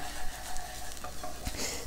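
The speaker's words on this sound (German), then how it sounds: "Auch das Mehl lassen wir kurz anbraten." Flour briefly fries and is stirred in a pan for vegan gravy, a soft steady sizzle broken by light scraping strokes of the spoon, close and without speech.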